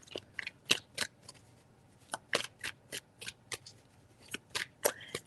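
Tea leaf oracle cards shuffled by hand in a series of crisp riffling bursts with short pauses between, close and clear, no talking.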